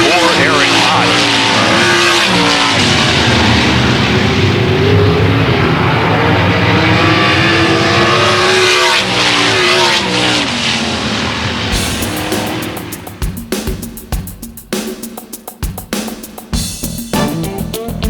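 Race cars in a dirt track heat race roar loudly nearby for several seconds. Engines rise and fall as the cars pass, with choppy revving toward the end and an announcer talking over them.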